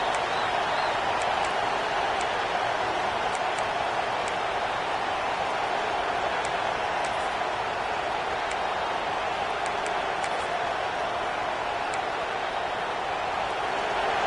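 A dense, steady roar of a large stadium crowd at a college football game with Clemson, loud and sustained throughout, with faint ticking in the background.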